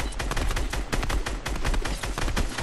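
Rapid gunfire in an online shooter video game crackles in dense, continuous bursts of overlapping shots, loud and close, with no talking during the shooting.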